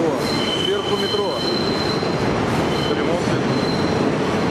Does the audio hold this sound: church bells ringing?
no